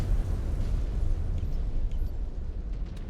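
A deep, rumbling explosion in the video game MechWarrior 5: Clans, with a sustained low roar that fades slowly, loud and heavy throughout.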